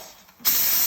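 A Simonelli espresso machine's steam wand fires a short blast to purge milk, starting after a quiet moment as a sudden loud hiss that holds steady to the end.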